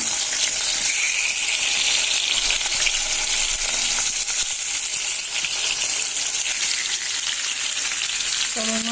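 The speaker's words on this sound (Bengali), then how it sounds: "তা এখন এই যে মাছ মাছগুলি ভাজবো বিসমিল্লা বিসমিল্লাটা মাছটা ছাড়া দিলাম" Pieces of rohu fish fry in hot oil, giving a steady, loud, bright sizzle that runs without a break, with a faint clink near the end.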